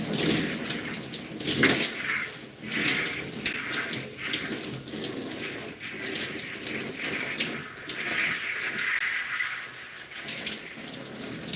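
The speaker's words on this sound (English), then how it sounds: "And just rinsing out the conditioner." Running water splashes unevenly through hair as conditioner is rinsed out, a close, continuous shower-like spatter with shifting gushes and no talking.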